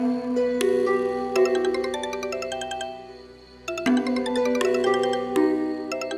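An electronic ringtone plays a bright chiming melody of repeated ding-dong notes, pausing briefly midway before starting again, clear and close with no talk over it.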